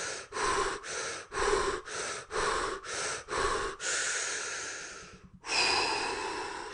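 Nasal breathing exercise with rhythmic in-and-out breaths: about eight short, evenly paced breaths, then one long drawn breath, a brief pause and another long breath, close and clear with no talking.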